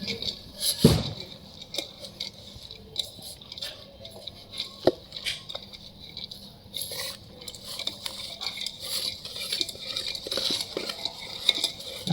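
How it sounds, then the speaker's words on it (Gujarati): Pakora batter ingredients are mixed in a pot, a busy close run of stirring scrapes and utensil clinks against metal, with one sharp knock near the start. "હવે આ બધું મિક્સ કરી લેવાનું"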